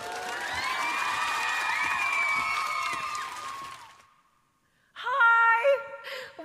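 A crowd cheers and whoops loudly for a few seconds, fades to silence, then a burst of bright tonal music plays.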